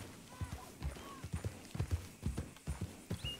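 Horse hooves clip-clop in the video game Red Dead Redemption 2, a quiet, irregular series of dull thuds as the horse walks and slows, with faint ambient sound between steps.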